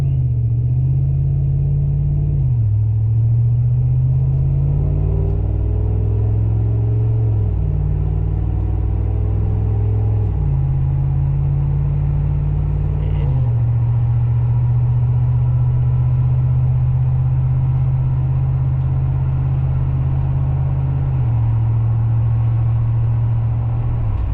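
A Dodge Ram truck with a Flowmaster 10 style muffler gives a loud, deep, steady exhaust rumble while cruising. The low drone holds constant and shifts pitch slightly several times, with no voices.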